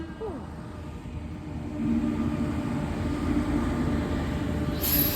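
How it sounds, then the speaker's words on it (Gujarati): A train rumbles past a closed railway level crossing as it slows on its approach to a station, a steady heavy rolling noise that swells louder midway and stays constant, with a brief sharp hiss near the end. "ટ્રેન આવે છે જરી આમ આગે આવે છે."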